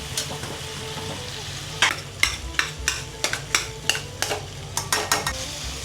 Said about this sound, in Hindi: इसमें जो मैश किए हुए पोटैटो है इसमें मिक्स कर लेते हैं